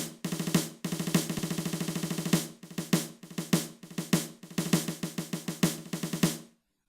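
Crisp programmed snare drum hits play a busy solo pattern of fast rolls, accented strokes and short pauses, ending abruptly after several seconds.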